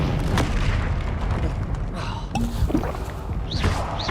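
A Confringo blasting spell goes off in the Hogwarts Legacy game, a dense booming explosive burst amid a loud, continuous wash of game noise and rumble.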